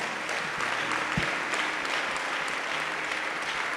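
Church congregation applauding during a Portuguese-language sermon at a youth congress, a steady, dense wash of clapping that holds at full level throughout, with no voices over it.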